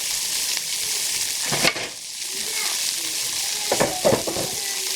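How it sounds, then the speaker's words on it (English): Steady sizzling of food frying in a pan, a continuous bright hiss with a few brief clatters of stirring, no voices. "if you're just hearing the sizzle"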